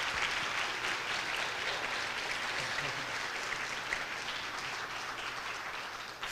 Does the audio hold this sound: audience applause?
yes